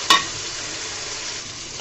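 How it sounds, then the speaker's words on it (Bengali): Dried shutki fish fries in hot oil, a close, even sizzle and hiss after a short sharp clink at the start. "শুটকিগুলোকে আমি তেলের মধ্যে ভেজে নিব"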